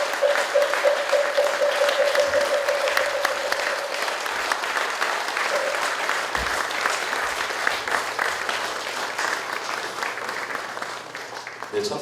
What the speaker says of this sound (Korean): 귀하신 걸음으로 큰 가르침을 전해주신 향적 큰 스님을 큰 박수로 환송해